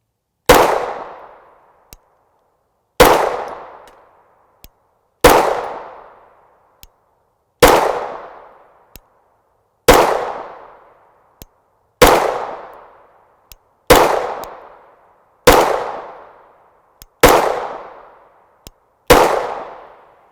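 Glock 19 Gen 4 pistol firing 9mm rounds, ten loud sharp single shots spaced about two seconds apart, each followed by a short decay and a faint metallic tick from ejected brass.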